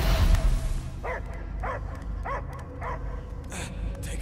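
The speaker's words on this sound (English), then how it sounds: "I hear only barking." A dog in Marvel's Guardians of the Galaxy video game barks about five times in a steady rhythm, fairly close, after a brief low rumble at the start.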